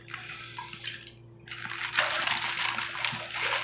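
Water poured into a bag indoors, a quiet trickle and splash that swells after a short pause, continuing with sloshing over a low steady hum.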